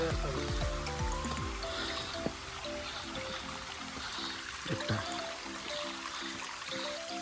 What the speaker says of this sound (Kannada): ಇದೇ ನೀರು ಕೆಳಗೆ ಬರ್ತಾ ಇರೋದು ನೋಡಿ,